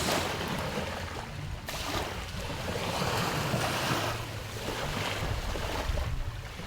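Steady roar of sea waves and surf with wind buffeting the microphone, continuous and close, no voices, on the coast of Guimaras in the Philippines.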